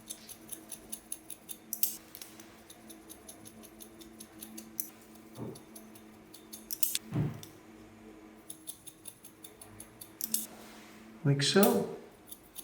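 Scissors point-cutting blonde hair during a shag-style wolf cut, with soft repeated snips and light clicks spread across the clip, close to the microphone, while a stylist talks briefly.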